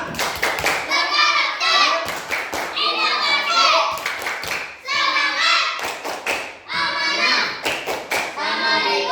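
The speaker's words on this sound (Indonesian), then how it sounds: "Oke, tepuk bisa." Children in a school classroom perform a rhythmic clapping cheer, with bursts of quick, crisp hand claps punctuating loud chanted group voices in a repeating pattern throughout.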